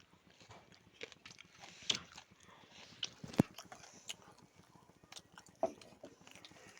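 Someone eats chitoi pitha, a rice cake, with sugar, making soft intermittent bites and chewing close by with a few sharper crunchy clicks, quiet and without talk.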